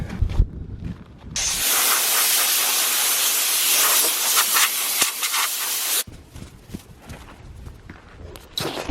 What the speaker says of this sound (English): you should never use an air compressor on an air filter